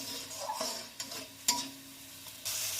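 Chopped tomato fries with turmeric and spices in a pan, giving a soft sizzle broken by a few short utensil scrapes and taps. It is quiet and close, with no voice heard.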